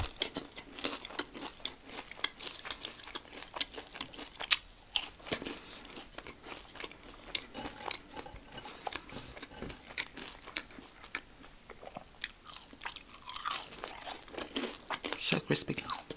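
Crispy cheesy fries being eaten close up, with repeated crunchy bites and chewing scattered across a long stretch, mixed with faint background voices.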